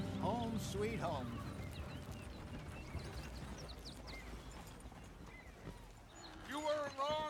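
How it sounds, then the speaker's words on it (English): Horse hooves clip-clop in the Red Dead Redemption 2 video game, a steady trotting beat under continuous talk and background game sound, with a brief whinny near the start. "I wouldn't mind riding the horse."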